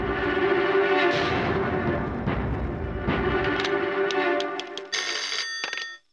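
A telephone rings for an incoming call, its bright electronic tone repeating over a rumbling background before the background cuts away and a few clearer rings finish alone, fairly faint.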